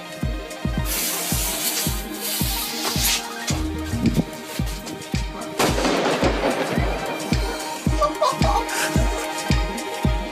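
An aerial assault firework firing in a rapid even rhythm of booming shots, with crackling bursts overhead partway through and sharp bangs continuing to the end.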